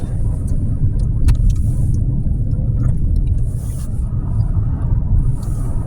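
A service bus rolls past near Silver Mountain with a loud, steady low engine rumble and road noise that holds throughout. Nobody speaks over it.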